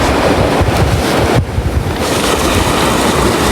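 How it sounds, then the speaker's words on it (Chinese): Sea waves wash in at a wild seaside in Zhejiang, a continuous loud churn heavily mixed with wind buffeting the microphone, with a brief dip midway. "给大家 看一看这后面的海"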